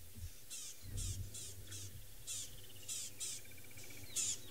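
Birds give repeated sharp, chattering alarm calls in bursts on safari, with a low steady hum and faint rattling insects in the background.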